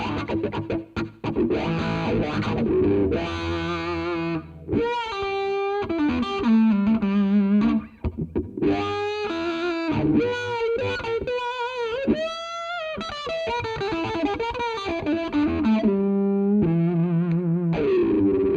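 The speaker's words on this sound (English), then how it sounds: "And I can still do that wah kind of wacka wacka noise." Distorted electric guitar through an Electro Harmonix Cock Fight pedal, its wah sweeping up and down in vocal-like, rhythmic wacka-wacka riffs, loud and close with brief gaps between phrases.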